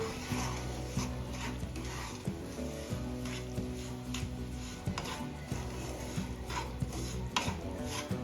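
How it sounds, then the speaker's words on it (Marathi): A spoon stirs sabudana powder roasting in ghee in a metal pan, with repeated scraping and clinking knocks against the pan at close range over a faint background hum, with no one talking. "आता आपण दोन मिनिटं छान परतून घेणार आहोत हे तुपामध्ये"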